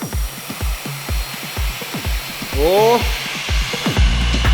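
Air blower switched on to inflate a giant inflatable trampoline park, a steady whirring rush rising and filling in over a few seconds, with people talking and a short exclamation over it.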